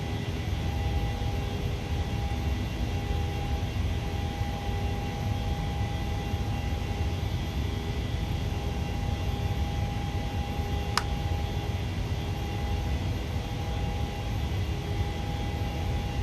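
Steady jet engine roar of a PMDG Boeing 737-700 taking off in Microsoft Flight Simulator, a broad continuous drone with a faint steady tone, alone and unbroken throughout, with one brief click near the end.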